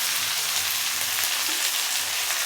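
Curry leaves sizzle in hot oil in a pan, a steady, dense crackling hiss that stays close and even throughout.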